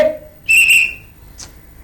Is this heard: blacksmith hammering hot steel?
no